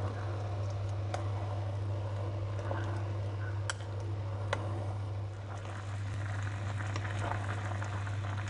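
Quince and sugar syrup boiling hard over high heat in a pot, a steady close bubbling bed with scattered small pops and ticks throughout, no voices.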